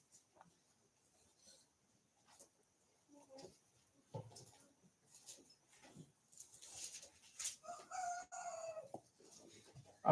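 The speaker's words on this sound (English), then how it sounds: "The cocks crow at 6 or 5 in the morning or something." Roosters crow faintly in the distance behind a quiet indoor setting, with scattered soft knocks and murmuring voices, the crowing rising more clearly toward the end.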